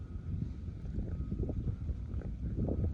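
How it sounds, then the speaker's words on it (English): Gusty outdoor wind buffets the microphone in a cold open-air setting, a steady low rumbling roar with surging swells, close and fairly loud, with no talking. "there's that wind"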